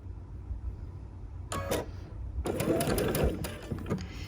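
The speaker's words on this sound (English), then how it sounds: "I'm going to do the best I can to sew on top of that line" A sewing machine stitches along a marked line on a butterfly quilt, running in a short burst and then a longer steady run with rapid mechanical clatter, close by and alone.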